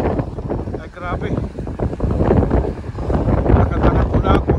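Wind blowing hard along a snowy street in cold weather, a steady gusty rush buffeting the microphone, with a person talking over it.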